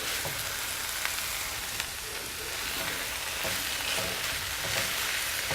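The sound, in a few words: bok choy frying and being stirred in a pan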